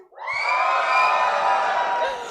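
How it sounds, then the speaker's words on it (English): A crowd at a chessboxing show cheers and whoops together, a loud, close, sustained burst of high-pitched voices that swells quickly and fades slightly at the end. "Give me a cheer if you're a chess boxing virgin."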